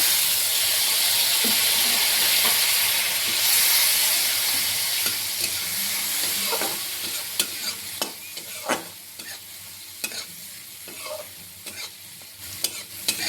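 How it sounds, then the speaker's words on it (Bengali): Spice paste with cumin powder, salt and a splash of water sautéing in a pan, a loud steamy hiss at first that settles into a softer sizzle with repeated clinking stirs of the spatula, no talking. "এবার এর মধ্যে হালকা একটু জল দিয়ে মশলাকে আমি কষিয়ে নেব"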